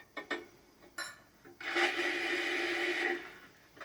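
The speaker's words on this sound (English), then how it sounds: "up into the bowl of your food processor and grind them up" A food processor grinds ingredients finely in its bowl, a few short whirring pulses followed by a steady, loud grinding run of about a second and a half, then a brief final burst.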